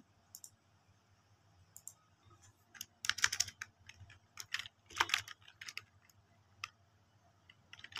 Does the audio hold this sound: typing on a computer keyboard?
yes